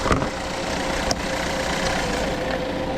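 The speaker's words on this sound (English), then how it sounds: "It's actually misfiring right now." A GMC Terrain engine with a misfire runs steadily near the microphone, a continuous idling drone with a faint uneven roughness and one brief click partway through.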